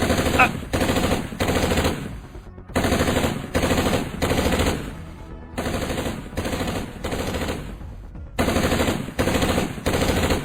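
Bursts of rapid machine-gun fire shooting at monsters, loud and close, arrive in several long volleys separated by brief pauses.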